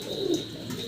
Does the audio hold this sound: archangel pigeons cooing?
yes